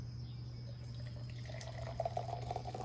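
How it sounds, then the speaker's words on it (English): Water is poured into a French press in a quiet, faint trickle, rising into a brighter splashing gurgle toward the end over a steady low hum, with no voices. "So I'm going to pour the water"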